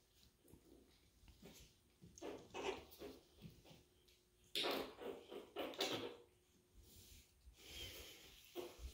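Young Chihuahua puppies about five and a half weeks old, giving soft whimpers and snuffly snorts in several short bursts, close by and fairly quiet against a hushed room.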